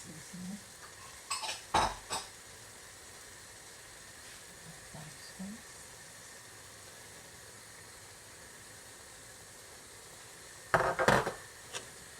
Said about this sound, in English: Give it a good stir, guys, and let this fry up well